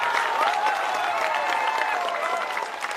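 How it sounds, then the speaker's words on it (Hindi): A crowd claps at a political rally in Nawada, Bihar, producing a dense, steady wash of applause that continues loud and unbroken for a few seconds before easing slightly. "बजा लो ताली जोर से।"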